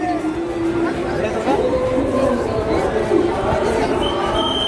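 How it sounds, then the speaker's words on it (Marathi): Dense crowd chatter of pilgrims gathered near a decorated Ganpati temple during the Alandi–Pune wari procession: a steady, continuous hubbub of many overlapping voices, close and moderately loud throughout. "आता इथं गाड्या नसल्यामुळे गर्दी तर होणारच आहे"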